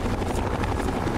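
A helicopter in the video game Fallout: A Tale of Two Wastelands gives off a steady, loud rotor drone with a fast pulsing beat that runs unbroken through the whole stretch, with no talk over it.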